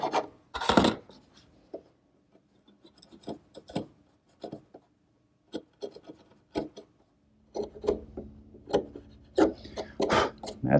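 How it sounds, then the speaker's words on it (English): Sharp chisel paring waste wood from a saw-cut notch in a shelf blank, a series of short scraping and tapping strokes at close range, with a denser burst of cutting near the end. "then I'll use a sharp chisel to remove the rest of the material."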